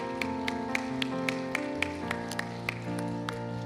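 Scattered clapping at a prayer meeting as people applaud one another, soft, sparse hand claps landing at a loose, steady pace over sustained organ-like accompaniment chords.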